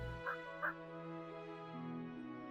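Turkeys in the farming settlement game Settlement Survival give two short gobbling calls early on, set over a steady layered game soundtrack, with nothing else standing out.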